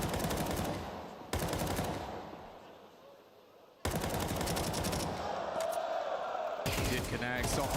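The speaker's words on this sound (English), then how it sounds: "They're shooting." Rapid automatic gunfire from a Counter-Strike 2 firefight during a Spirit versus FUT grand final match, loud bursts of shots broken by short gaps, with casters talking over the action.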